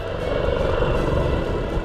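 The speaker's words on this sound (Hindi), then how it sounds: "भारतीय वायुसेना की सारंग टीम ने अपनी ध्रुव हेलीकॉप्टर से जबरदस्त स्टंट किया।" A Dhruv helicopter of the Indian Air Force Sarang display team flies stunts at an air show in Ankleshwar, Bharuch, Gujarat, its steady, loud rotor and engine roar filling the whole moment without break.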